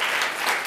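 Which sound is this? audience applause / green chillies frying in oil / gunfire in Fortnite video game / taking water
audience applause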